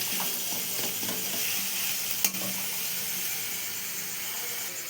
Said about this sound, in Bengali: এবার নাড়াচ্ছি